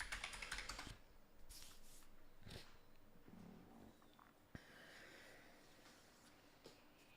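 Keys clicking on a computer keyboard in a quiet room, a short burst of typing early on followed by a few scattered, fainter taps and clicks.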